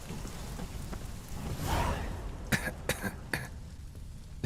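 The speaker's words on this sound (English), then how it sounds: "His coughing always sounds so stupid." A character coughs in the video game Witcher 3: Wild Hunt, several short rasping coughs in a row, close and fairly loud over a steady backdrop of rain-like ambient noise.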